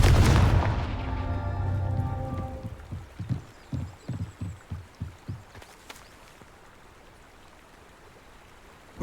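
A Confringo fire spell in Hogwarts Legacy lands with a heavy booming blast that fades, then a quick run of about a dozen rhythmic thuds and crackles, close and moderately loud, before falling quiet.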